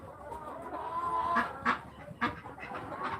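A barred rock hen clucks softly while being hand fed bread on a small farm, with a few sharper cluck bursts over a low outdoor background, close and fairly quiet, no speech.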